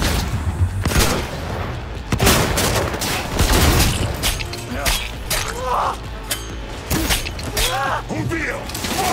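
Firearm gunfire in the video game Cyberpunk 2077 rings out as repeated loud shots and mechanical clatter over a busy, dense game soundscape.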